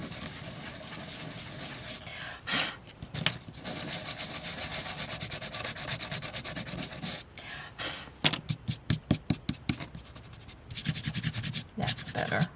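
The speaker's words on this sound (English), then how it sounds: "I'm just going to barely, hopefully I do this right without ripping anything. Just trying to rub a little bit to smooth it off." A file rubbed across the edge of handmade journal paper to smooth it, a close dry scraping that runs steadily, pauses, then breaks into a quick series of short rhythmic strokes before continuing.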